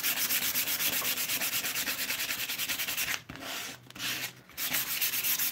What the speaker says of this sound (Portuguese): Então, eu vou lixando.